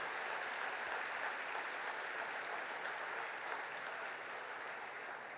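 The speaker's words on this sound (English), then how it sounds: "I want to give the guys in Eircom a particular round of applause" Sustained audience applause fills a hall at the Spiders Awards 2012 ceremony, a dense, steady wash of many hands clapping at even loudness throughout, with no speech over it.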